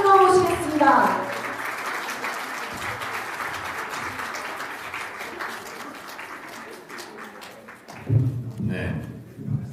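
An audience of regional party committee chairs at a party event applauds to welcome the party leader, a steady wash of clapping that fades out and gives way to talk near the end.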